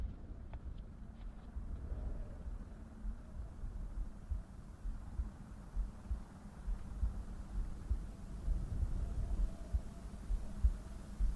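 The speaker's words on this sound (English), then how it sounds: "A heartbeat is heard." A slow heartbeat in a horror video game, dull low thumps pulsing under a steady dark hum and faint wind-like noise.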